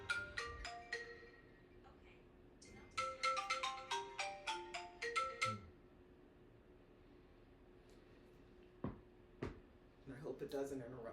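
A phone ringtone plays a bright, repeating electronic melody in bursts of quick notes that ends after about five seconds, followed by a quieter stretch with a few faint knocks and a person speaking.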